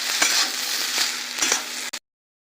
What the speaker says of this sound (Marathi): मिरचीमध्ये भेंडी चांगली मिक्स करून घेऊ आणि परतून घेऊ